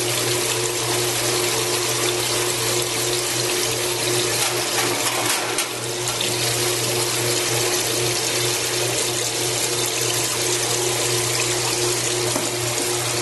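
A wand sprays a continuous stream of oil to wash scrubbed-off debris down the walls, heard as a steady, even rushing hiss like running water that keeps on for over ten seconds without a break.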